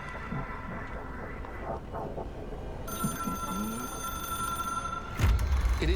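An old-style telephone bell rings in the video game Control, in repeated bright metallic bursts over a low in-game ambience, with a heavier thump near the end.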